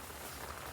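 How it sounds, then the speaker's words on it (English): Heavy rain falls steadily outside a fishing spot on a club lake in Hertfordshire, a dense, even hiss of drops with no gaps and no voices over it. "it's absolutely chucking it down with rain"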